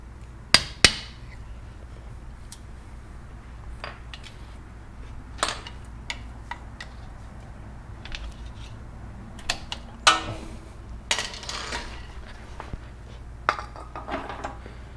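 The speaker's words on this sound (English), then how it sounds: "strike the lip with a screwdriver or a punch or a chisel, and see if you can bend it in" A punch or chisel strikes the lip of a pinion seal on a Dana 35 differential, making sharp, isolated metallic taps spaced irregularly against a quiet background, with a few louder hits in quick pairs.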